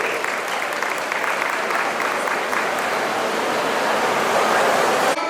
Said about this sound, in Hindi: हम सबकी तालियां जोरदार करनी चाहिए, बहुत जोर से